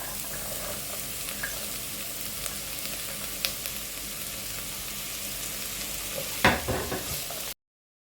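Carrots and beans stir-fry in a pan with a steady, dense sizzle throughout, close by, with a brief clatter of stirring near the end.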